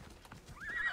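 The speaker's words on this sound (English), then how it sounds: "Come, horse." A horse in Assassin's Creed Odyssey gives a rising, quiet whinny after a few soft hoof clops.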